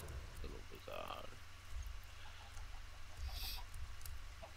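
Blocky video-game chickens cluck in a magic dinosaur forest, short clucks recurring through the clip over a steady low background hum.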